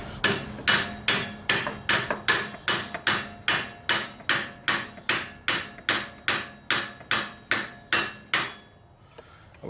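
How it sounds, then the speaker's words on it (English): A hammer strikes metal on a 1983 Honda Goldwing motorcycle, about twenty sharp evenly spaced blows ringing loud and close, then stopping into near quiet. "I wish I had a non-marring hammer for this"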